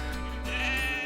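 Suffolk sheep bleat during a gathering on a farm near Dalkeith, a single loud, wavering call that carries steadily from start to finish over a low background hum.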